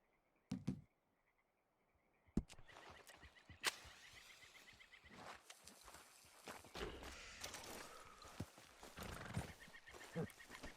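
A horse in the Red Dead Redemption 2 video game whinnies loudly after a brief earlier snort, followed by clip-clopping hooves and shuffling movement.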